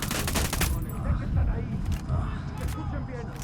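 Gunfire in Ghost Recon Wildlands, a quick rattling burst of shots at the start, then scattered sharp reports and echoes under a low rumbling background.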